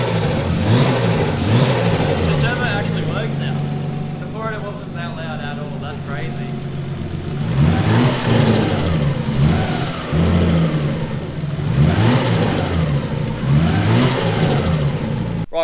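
A Nissan RB25DET engine on its first start idles roughly, then revs repeatedly in loud rising and falling sweeps, with people talking over it.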